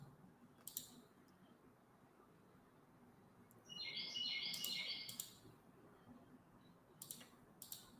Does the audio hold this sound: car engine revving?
no